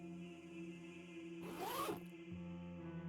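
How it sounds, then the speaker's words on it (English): A body bag zipper is tugged open in one quick, continuous rasp lasting about half a second, set against a steady low background hum. "The zip makes a familiar zzz sound"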